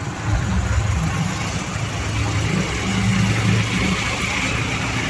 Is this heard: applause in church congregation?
no